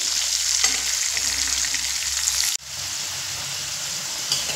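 Potatoes with salt and turmeric fry in oil over a medium flame, giving a loud, continuous close sizzle that drops abruptly partway through, then resumes slightly softer. No one speaks.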